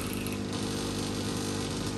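A steady, dense mechanical hum and whoosh of an air compression therapy machine for leg swelling running continuously, loud and close, with no pauses.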